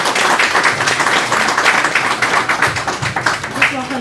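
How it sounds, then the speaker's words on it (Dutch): A crowd at a lecture applauds with steady, dense clapping that tapers off toward the end, with some voices mixed in. "Mag ik een applaus voor Helena?"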